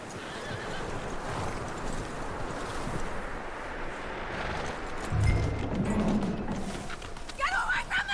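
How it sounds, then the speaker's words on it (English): A horse in the Red Dead Redemption 2 game whinnies and snorts over steady outdoor ambience with wind, hooves clopping nearby, and a brief voice speaking partway through. "That looks like a decent horse"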